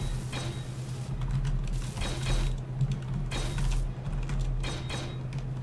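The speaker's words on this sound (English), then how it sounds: "let's just weld it all up" Blocks welded in the space game Space Engineers, with a steady mechanical hum under repeated creaking, grinding bursts that come and go in an uneven rhythm.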